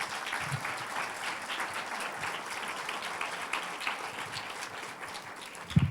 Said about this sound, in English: Please give them a warm applause.